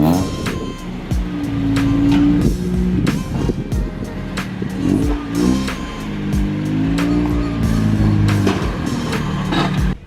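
A Honda Integra DB1 with a new exhaust drives past, its engine revving up and down in repeated rising and falling pulls, loud and close, with occasional tire noise and no talking.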